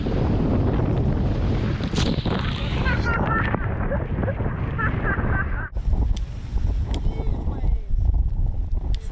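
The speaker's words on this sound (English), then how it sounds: "30 knots of wind, 32 knots of wind." Strong wind of 30 to 32 knots roars across the microphone aboard a sailing boat in big seas, a loud continuous gusting rush with splashes and creaks, while people talk over it.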